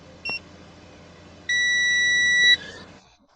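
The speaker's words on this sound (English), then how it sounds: "beeps and says that the function has been performed successfully" An iCarsoft diagnostic tool beeps on a Mercedes-Benz Vito during a service interval reset: a short high chirp, then a steady electronic tone held about a second, loud and close.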